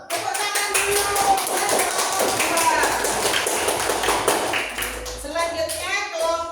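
A group applauds together at an indoor teacher mentoring session, with steady clapping running throughout and voices talking over it.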